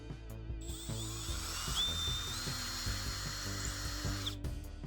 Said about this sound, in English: I'm gonna put some screws in the back of it so that I can take this off if I want to.